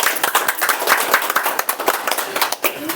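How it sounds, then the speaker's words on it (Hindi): A church congregation claps together during worship, a brisk, fairly loud run of overlapping hand claps with a loose shared rhythm lasting about three seconds. "आइए परमेश्वर ताली बजाएंगे।"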